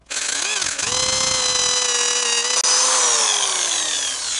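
A power drill bores through a homemade fishing lure prop, a loud continuous whine that rises after a brief start and holds steady, with a short catch partway through.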